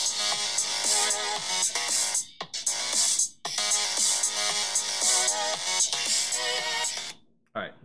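An iPhone 7 Plus ringtone plays loudly through the phone's built-in speaker, a bright melodic tune repeating in phrases with short gaps between them, heard alone without talk.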